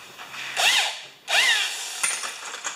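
Power drill fitted with a 3/8 socket adapter, working on a commercial Gravely 21-inch mower: two close, loud whirring bursts of rising and falling pitch, then a short ratcheting clatter.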